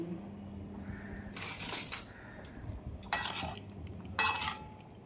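A metal spoon stirs and scrapes rohu fish mixed with mustard oil in a dish, giving three distinct clinking, scraping bursts over soft, quiet background handling.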